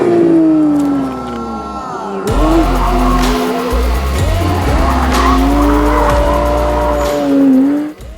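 A Porsche 911 GT3 RS driven hard on a runway with traction and stability control off, loud engine roar rising and falling through gear changes alongside squealing tires, close and continuous.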